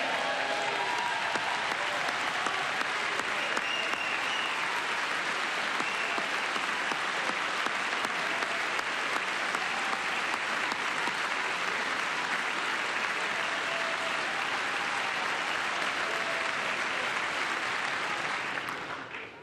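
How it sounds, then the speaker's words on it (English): An audience at a presidential address to Congress applauds in a long, dense, sustained wave of clapping. It holds steady at full strength, then drops off abruptly at the end. "With the name Kennedy, you would have thought everybody over here would have been cheering."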